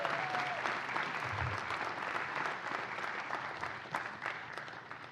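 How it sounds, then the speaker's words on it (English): Sustained applause from an audience at a university awards ceremony honoring a professor, a dense steady patter of many hands clapping throughout with a faint murmur underneath. "Big round of applause, please,"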